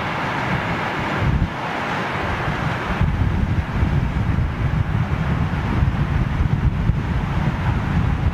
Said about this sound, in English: the wind has definitely picked up